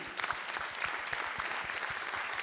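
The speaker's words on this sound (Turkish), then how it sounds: "Alkışlarınız Aydan ve Firdevs için." Studio audience on the Popstar television show clapping, a steady patter of many hands with a few sharp individual claps standing out close by, moderately loud and with no talk over it.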